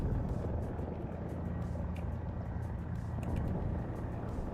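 Helicopter in War Thunder, compared against the Mi-35, droning steadily at moderate level with a continuous rotor and engine hum and no talking.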